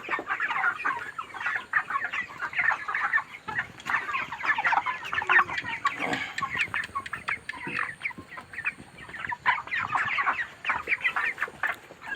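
Inside a poultry farm raising 30-day broiler chickens, a dense flock clucks and chatters continuously at close range, with many overlapping calls.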